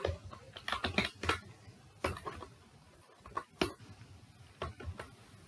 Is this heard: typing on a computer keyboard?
yes